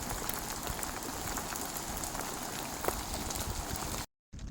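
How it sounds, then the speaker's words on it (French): Hail and rain drum on a tent in a dense, continuous patter of sharp ticks and splatters, loud and close, breaking off abruptly for a moment near the end. "sous la grêle et la pluie"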